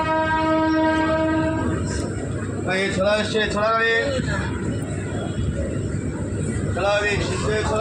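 A down Majerhat local train pulls out of platform 6 at Naihati station. A long, loud horn blast opens, then rumbling wheels carry on beneath someone talking nearby, with another short horn near the end.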